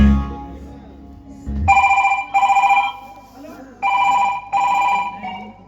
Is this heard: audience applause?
no